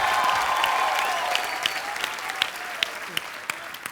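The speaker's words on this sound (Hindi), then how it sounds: "एक बार जोरदार तालियां हो जाए नूरा सिस्टर्स के लिए।" A studio audience on a comedy show applauds, a broad clapping wash that slowly fades while a few sharp individual claps stand out near the end.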